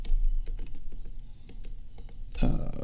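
Quick keystrokes clatter on a computer keyboard as someone codes, a close run of irregular taps, with a louder burst of noise near the end.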